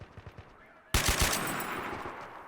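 Sustained machine gun fire erupts suddenly in a Modern Warfare battle, a dense loud burst of rapid shots with heavy reverberation, following a few faint quieter pops.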